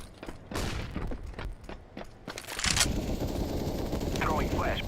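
Counter-Strike wingman match: a flashbang grenade bursts with a sharp bang, then bursts of gunfire follow alongside sustained loud rumbling from the game, with a player talking over the early part.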